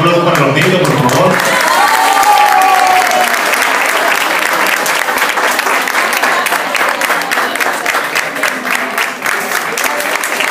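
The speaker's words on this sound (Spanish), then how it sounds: "Un aplauso para los niños, por favor." An audience claps for children at a community event, loud dense applause that swells early and holds steady for several seconds before thinning slightly, with a voice briefly heard over the opening.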